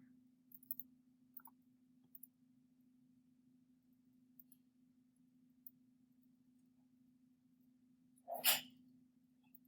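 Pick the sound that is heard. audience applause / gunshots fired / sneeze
sneeze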